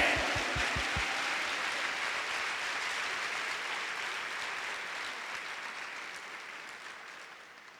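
Loud, sustained applause from a crowd at a 2008 pastors' seminar in Guadalupe, Mexico. A few heavy rhythmic thumps come first, then dense clapping that slowly fades over several seconds.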